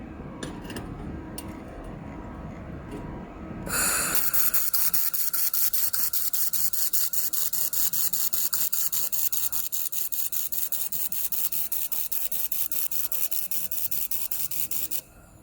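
A 2000 W laser welder with a dual wire feeder working on quarter-inch aluminum, starting with a few clicks, then a loud, steady buzzing hum that runs for about eleven seconds and stops abruptly.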